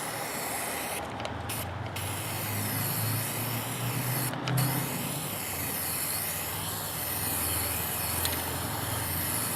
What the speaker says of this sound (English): So let's go ahead and spray paint this.